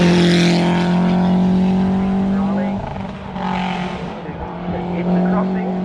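A yellow Lancia Delta Integrale race car climbing a hill at a hillclimb event, its loud engine droning steadily near then dipping and rising again as it accelerates, with commentary talk over it.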